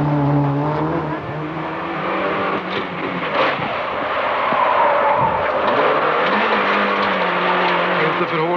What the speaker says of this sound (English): Now we're on board with Håkan Eriksson, clipping the wall in the Peugeot.